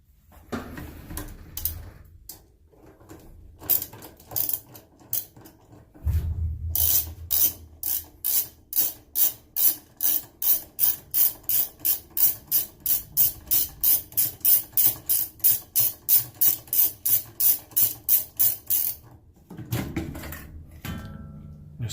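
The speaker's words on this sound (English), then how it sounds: "you're going to be rotating your ratchet counterclockwise to loosen the bolt" A ratchet turns counterclockwise to loosen the agitator bolt on a washing machine, producing a long, loud, evenly spaced run of sharp clicks up close, preceded and followed by handling clatter.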